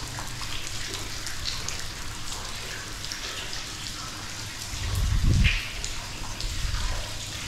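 Water trickles and splashes steadily in a garden water storage pool near Bukit Berapit, a continuous rain-like patter with a brief louder thump midway.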